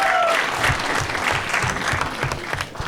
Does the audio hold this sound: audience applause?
yes